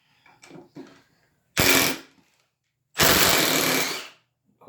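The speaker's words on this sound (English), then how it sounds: "put them both in reverse, and take the screws out and see what we get here" Two loud, close bursts of rapid hammering come from a Milwaukee M18 brushless impact driver running in reverse to remove screws, separated by a pause, with faint handling noise before the first.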